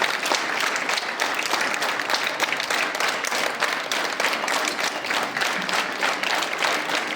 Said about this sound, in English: You are clapping for your gentleman, not for others.